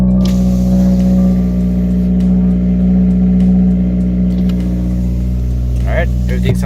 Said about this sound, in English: let's get a good cold start in